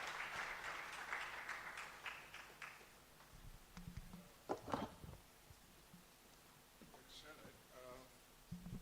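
A conference audience of physicians at a Kenyan scientific meeting claps in a dense, steady patter for about three seconds, then it fades as a voice speaks over the hall.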